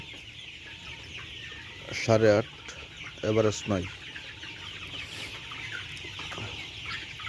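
Colour-feathered broiler chickens on a poultry farm cluck in two loud bursts close by, with a low flock murmur throughout and someone speaking briefly.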